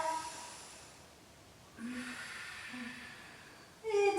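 Deep yoga breaths drawn through the nose, with two long, airy inhalations and exhalations, close and breathy, separated by a quieter pause.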